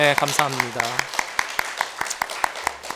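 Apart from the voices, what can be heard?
church congregation applauding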